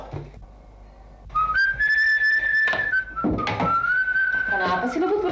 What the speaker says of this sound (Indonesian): Kenapa sih lo buat bersiul gitu?